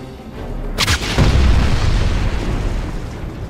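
A Panzerschreck rocket is fired and explodes in Wolfenstein, a sharp crack followed by a loud, deep rumbling blast that rolls on and slowly fades.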